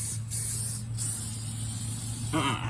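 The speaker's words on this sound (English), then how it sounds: "Spray a little bit of this on the tire." A continuous hissing spray of cleaner onto a car tire from an aerosol or pump bottle, close and steady, with a faint low hum underneath.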